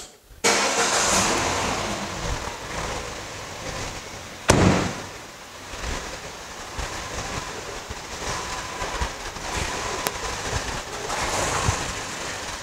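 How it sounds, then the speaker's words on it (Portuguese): A Peugeot/Citroën THP petrol engine is started after an air-leak repair; a sharp crank-and-catch burst gives way to a loud, steady idle with a brief sharp knock partway through, no talk. "Agora vamos ligar o carro para ver se solucionou o problema de vazamento de ar aí."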